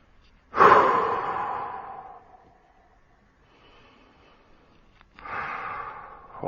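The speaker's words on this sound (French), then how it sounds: "Continuez à bien respirer." A person breathes deeply during a relaxed stretching exercise, lying with arms extended back and legs stretched forward: one long, loud exhale, a quiet pause, then a second breath starting, close and with no talking.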